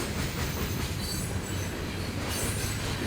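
A train rolls past on the Whitewater Valley Railroad near Connersville, Indiana, a loud, steady rumble of wheels on rail with faint squealing throughout.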